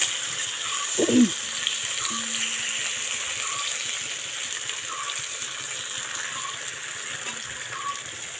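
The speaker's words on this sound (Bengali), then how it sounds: "আলুটা আমার মোটামুটি ভাজা হয়ে গেছে, আর একটুখানি আলুটা ভাজবো" Potatoes fry in a pan for chicken curry, a steady broad sizzle running throughout with a brief stir or clink near the start and faint intermittent clicks.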